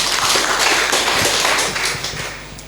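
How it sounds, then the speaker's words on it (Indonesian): A crowd at a volunteer talk forum applauds for Samawi, steady dense clapping from many hands that holds loud and then tapers off toward the end. "Tepuk tangan dulu dong buat Samawi ya"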